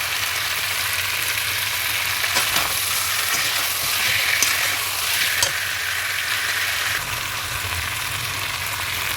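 Mutton curry sizzles steadily in oil in a pan as it is slowly sautéed, a dense continuous crackle with occasional stirring scrapes, close and alone.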